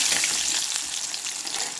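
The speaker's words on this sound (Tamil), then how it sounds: "இப்போ ஃபஸ்ட்டு நம்ம வெள்ளைப்பூடை வறுத்து வச்சு" Garlic fries in hot oil for a kuzhambu, making a dense continuous sizzle that stays loud and close throughout with faint stirring underneath.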